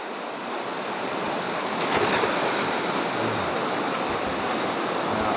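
A river flows outdoors with a steady, broad rush of water that stays loud and even throughout, with some wind in the microphone and no talking.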